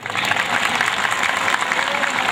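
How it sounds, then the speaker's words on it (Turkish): Audience applause for a puppet theatre troupe performing a tooth-tale musical at a traditional tahini pide festival in Kadınhanı, a steady moderately loud wash of clapping from a crowd that holds evenly throughout. "Ekibimize güçlü bir alkış istiyorum sizden."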